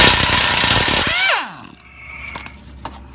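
An AIRCAT 1055-TH half-inch compact pneumatic impact wrench works a tie rod bolt: a loud burst of dense air-tool hammering for about a second, then the motor whines down in a falling pitch, followed by a few faint clicks and taps.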